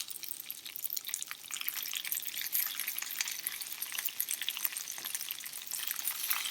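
Okra sizzles and crackles steadily in a pan with onion, a dense bright frying hiss that continues without pause, close and moderately loud, with no talking.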